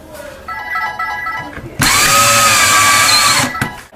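A power drill drives a screw through drywall, a steady loud high whine running for nearly two seconds close by, after a quieter stretch of background hum.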